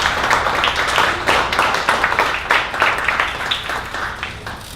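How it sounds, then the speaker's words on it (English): Audience at a 1 Million Cups Dallas morning startup event clapping for the first presenter, a dense, steady wash of applause that fills the whole stretch with no voices on top. "I want to invite you guys to stand up and clap on our first presenter, Klyne Smith"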